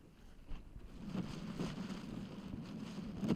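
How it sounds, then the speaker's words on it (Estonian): Steady outdoor wind gusts rumble and buffet the microphone on a disc golf course during a women's pro final, a continuous low roar with a few stronger swells and no speech. "Aga siin on jah tuul tõusnud."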